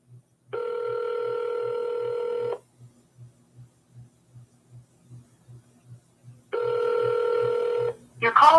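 A phone call rings twice. Each ring is a loud, sustained electronic tone of about two seconds, separated by a long gap with a soft pulsing hum beneath.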